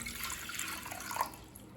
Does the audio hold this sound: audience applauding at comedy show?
no